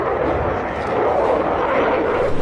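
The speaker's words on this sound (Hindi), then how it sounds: "Rafale fighter jet." A Rafale fighter jet flies over with a dense, loud, continuous roar, steady throughout with no voices.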